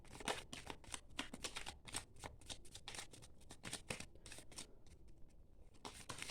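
Oracle cards being drawn and shuffled from a deck, a rapid run of crisp papery flicks and riffles, close and moderately quiet, with no talking.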